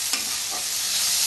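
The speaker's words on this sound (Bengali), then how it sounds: "জিরা বাটা দিয়ে একটু নাড়াচাড়া করে নিয়ে আমি পোস্ত বাটা দেবো" Prawns with cumin paste sizzle in a pan under a brief stir, with a short scrape of the spoon over a continuous loud hiss.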